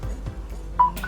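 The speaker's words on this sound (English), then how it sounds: "You can see, you can hear the sound of charging." A Samsung J7 Prime phone with a replaced USB charging port gives one short electronic beep as charging starts, clear and close against a quiet low hum.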